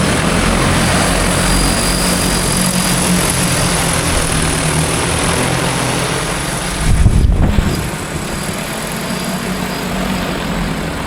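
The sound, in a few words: agricultural spray drone flying over pasture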